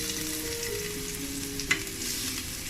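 Crushed garlic sizzles in hot oil with mustard seeds and chili flakes, a close, steady crackling fry with a single sharp clink partway through, no voices.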